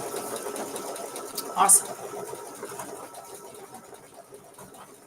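An embroidery sewing machine stitches red chevron accents on a quilt block with a quiet, steady rapid whirring, and a voice speaks briefly over it.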